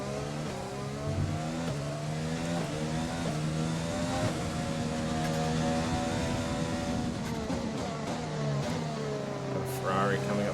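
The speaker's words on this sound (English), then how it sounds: "Ferrari coming up behind me" Engines of Formula 1 cars, including a Ferrari closing from behind, in F1 2020 whine steadily at high revs, pitch sliding up and down through gear shifts, with a voice talking over them.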